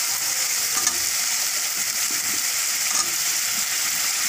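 Chopped ash gourd tossed into a pan of hot oil for a Bengali fish curry, frying with a steady close sizzle while being stirred, a few soft scrapes and clacks of the spoon breaking through.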